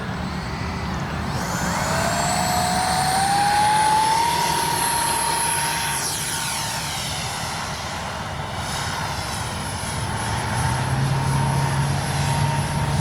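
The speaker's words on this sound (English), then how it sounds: "Great flying little jet." A twin 40mm RC F-22 Raptor model jet flies close overhead on a morning sortie, its ducted-fan whine rising sharply in pitch and then easing as it passes and roars on.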